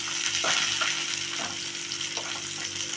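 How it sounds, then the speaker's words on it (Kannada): Amaranth stem chutney ingredients fry in hot oil in a pan, giving a steady, close sizzle with soft stirring scrapes and no talk. "ಇವಾಗ ಇದು ಸ್ವಲ್ಪ ಎಣ್ಣೆಯಲ್ಲಿ ಫ್ರೈ ಆಗ್ತಾ ಇದೆ"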